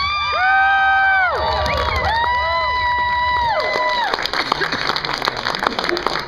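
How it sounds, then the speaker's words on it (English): A crowd at a Dutch oven cook-off awards cheers and whoops loudly with shouting voices, then the noise shifts into scattered applause and clapping with chatter underneath. "Big round of applause, Blake."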